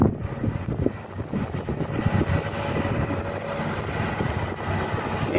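Komatsu PC200-6 excavator with a six-cylinder direct-injection diesel engine running, a steady loud rumbling drone with a broad noisy roar that holds evenly throughout, no speech.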